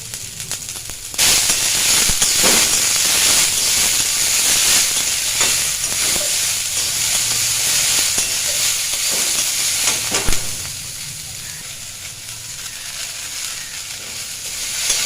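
Drumstick flowers fry in a pan with salt, a loud, steady sizzle and crackle carrying throughout, with scattered sharper pops and scraping stir sounds, easing slightly near the end.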